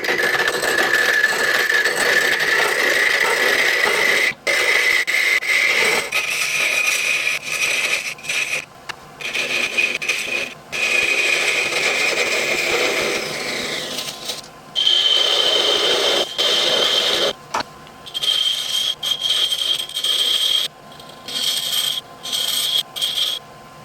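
A small wooden knob being turned on a lathe as the top piece for an enchanted rose, heard as a steady close rasping, rubbing scrape of the cutting tool on spinning wood, broken by short pauses and slight shifts in pitch.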